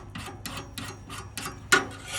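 A hand sickle blade is drawn across a Sharpens Best sharpener in five or six evenly spaced raspy strokes, close and fairly quiet, with a louder scrape near the end.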